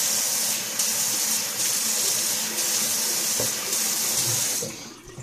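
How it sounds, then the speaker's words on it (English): Tap water running steadily into a bathroom sink while a face is wetted for a wet shave, a loud continuous splashing stream that cuts off near the end. "So let me wet my face here"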